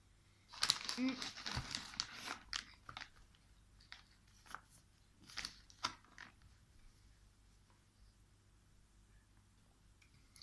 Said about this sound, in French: C'est un biscuit très croquant.